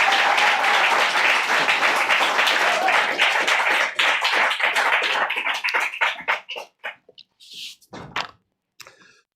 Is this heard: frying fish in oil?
no